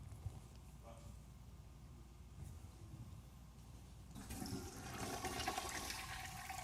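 Toilet flush surging in about two thirds of the way through, a loud rushing swirl of water that builds and fills the rest of the clip after a quieter stretch of low background noise.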